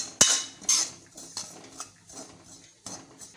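A metal spoon scrapes and clinks against a pan while stirring chilli powder and coriander powder, a sharp knock first, then softer irregular stirring scrapes, close and fairly quiet.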